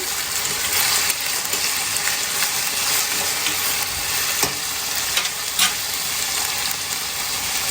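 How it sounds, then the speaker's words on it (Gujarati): Chopped chilies and potatoes stirred in a frying pan, with a steady broadband sizzle and scraping stir sounds throughout, moderately loud and close, with no talking. "હવે એને આપણે મસ્ત મિક્સ કરી લઈશું"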